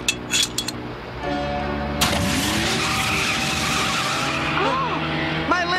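Cartoon tire skid as a stolen limousine peels away, a long screeching squeal with rising and falling whistle-like sweeps over a steady engine roar, loud and close, no talk.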